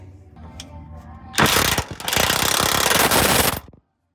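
A pneumatic impact tool removing bolts holding a first-generation truck bed to the frame, giving a loud, close burst of rapid rattling hammering lasting about two seconds after a low idling hum.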